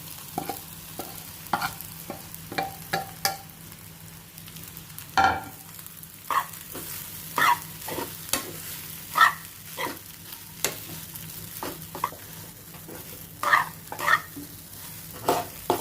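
Sabudana is stirred into fried green chillies in a pan, a low sizzle with scattered spoon scrapes and taps, while a dog barks now and then in the background; no one speaks.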